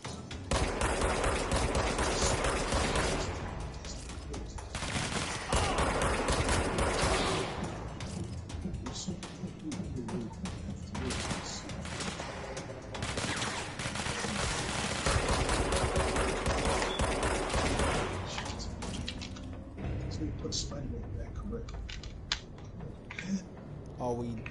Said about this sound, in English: They got machine guns.